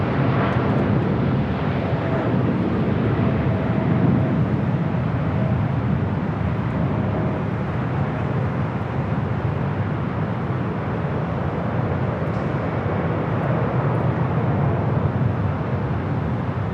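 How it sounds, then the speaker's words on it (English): A United Airlines Boeing 787-10 Dreamliner takes off at Los Angeles airport, a loud, continuous broadband jet roar rumbling steadily throughout, with a faint whine early on. "Got another United Dreamliner rolling down to 5 right."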